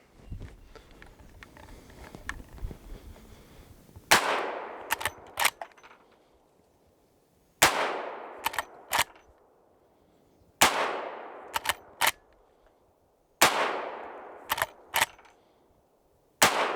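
A Henry Big Boy lever-action rifle fires .357 Magnum and .38 Special 125-grain rounds outdoors, four loud, separate shots, each followed by quick metallic clacks of the lever cycling.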